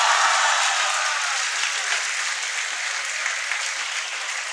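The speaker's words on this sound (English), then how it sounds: "Everybody, a round of applause for Suryakant Paramguru." Steady, dense audience applause at a school felicitation ceremony for Class X achievers, a broad wash of many hands clapping together, loud and sustained throughout with no voices over it.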